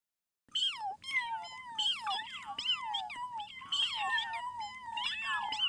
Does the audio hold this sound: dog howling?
yes